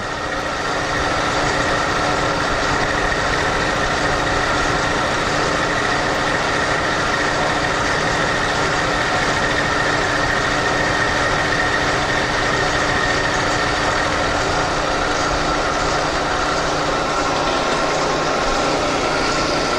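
A CNC milling machine spindle runs at speed, a steady, loud, unbroken mechanical hum and whine with no pauses throughout.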